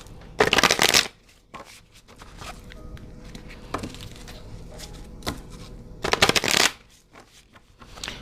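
A deck of oracle healing cards is shuffled in two loud, crisp riffling bursts, one near the start and one near the end, with softer card handling and rustling in between.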